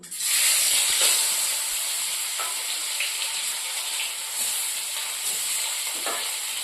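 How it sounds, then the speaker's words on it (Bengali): Shing fish rubbed with salt and turmeric are laid one by one into hot oil in a wok. The close, loud hissing sizzle stays constant, and faint crackles and pops scatter through it. "এদিকে কড়াইতে তেল দিয়ে নিয়েছি এবার আমি একে একে মাছগুলো দিয়ে দিচ্ছি"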